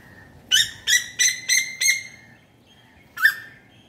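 A bird perched in a guava tree in an urban garden gives a rapid series of five sharp, bright calls, then one more after a pause, fairly close and loud over a low background hiss.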